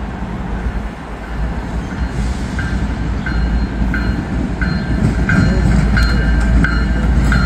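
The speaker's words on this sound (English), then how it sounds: "The Ennis geometry train, as we talked about before, is coming down the line. That's him right there blowing his horn." A geometry track-inspection train rolls past a gated crossing at Butler Street, a loud continuous rumble of wheels on rails with faint repeated clicks, close by and steady throughout.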